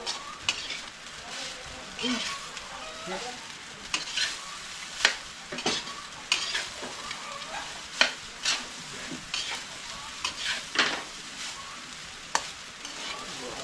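Fried rice being stirred in a pan in a rural home kitchen, continuous sizzling under repeated scraping strokes of a spatula against the pan, close and fairly loud.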